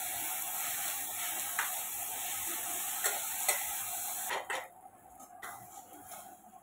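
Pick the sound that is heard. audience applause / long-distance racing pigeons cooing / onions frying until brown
onions frying until brown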